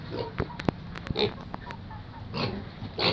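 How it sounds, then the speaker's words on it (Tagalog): Short grunting calls from a sow come in several bursts, mixed with farmyard noise and a few sharp clicks, at moderate distance. "Nagtatawag si Mama Pig."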